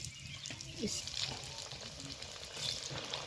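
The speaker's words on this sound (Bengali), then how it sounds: "এই যে পিঠেগুলো এক এক করে গরম তেলে দিয়ে দিব" Pitha fry in hot mustard oil with a soft, steady sizzle and faint bubbling, fairly quiet and continuous.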